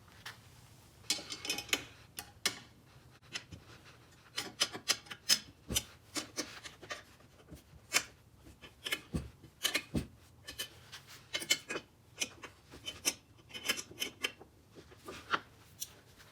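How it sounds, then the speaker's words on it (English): Bike rack bolts on a truck rack being tightened with Allen and 13 mm wrenches, giving quiet scattered clicks and ratcheting ticks in irregular bursts, close and faint. "you want to go ahead and tighten down all 4 of the bolts"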